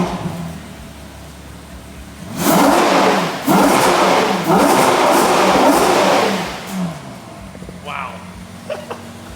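A Ferrari Purosangue revs hard and accelerates for about four seconds in a loud, rising surge with gear-change dips, then eases back to a low idle; people talk over the engine throughout.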